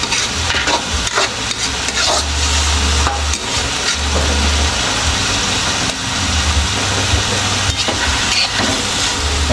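A tomato mixture stirred in a pan with a ladle, loud continuous scraping and sizzling over a low steady background hum. No talking.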